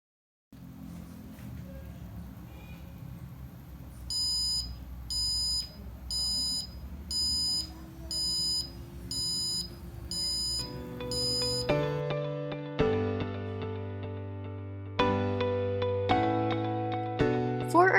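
An Arduino buzzer module sounds a series of shrill electronic beeps in a regular on-off pattern, then plays a run of clear, loud tones at changing pitches, heard alone close to the microphone.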